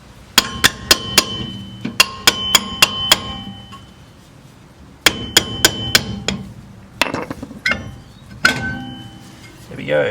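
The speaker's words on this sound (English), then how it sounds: "Now with this one, you might just need to tap it with a hammer." Sharp metallic hammer taps on a car brake drum, loosening it off the hub: quick bursts of four to six ringing strikes, a pause, then another series, followed by scattered clanks of the drum shifting loose.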